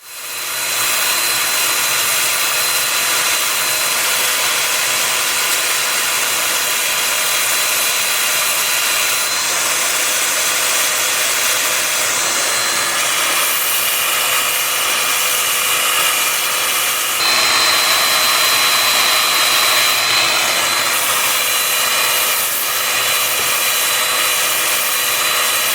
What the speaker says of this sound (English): I have the lathe spinning in reverse at 270 RPM. I'm starting at 150 grit and working up through 400.